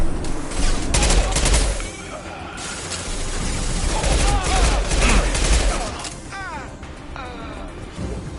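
Heavy, repeated gunfire and impacts from a high-impact shot in Mass Effect, loud and close, with bursts rolling over one another while a voice speaks in the middle of the din.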